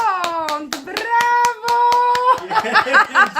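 Hands clap in a quick, steady rhythm to celebrate a scratch-card lottery win, sharp and close. A voice speaks over the clapping, and the claps grow looser and busier near the end.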